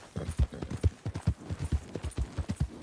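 Horse hooves clip-clopping in the video game Red Dead Redemption 2, a steady rhythmic stream of hoofbeats at a walking or trotting pace, close and moderately loud with no talk over them.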